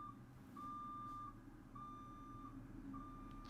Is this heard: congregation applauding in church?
no